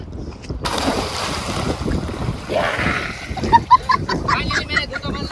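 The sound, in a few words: boat being pushed into the sea, water splashing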